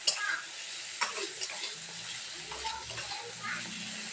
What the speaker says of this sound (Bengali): নাড়াচাড়া করে আলুটাকে ভালো করে একটু কষিয়ে নিতে হবে।